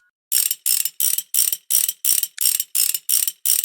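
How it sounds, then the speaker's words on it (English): Ratchet clicks as bolts are taken out in Motorcycle Mechanic Simulator, ten sharp, evenly spaced bursts of rapid clicking, loud and close with no talk. "Currently taking bolts out"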